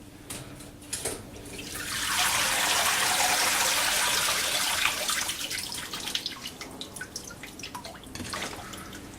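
Freshly blanched garden peas tumble into a bowl of ice water, giving a burst of splashing and pouring that swells for several seconds before settling into scattered drips and clinks.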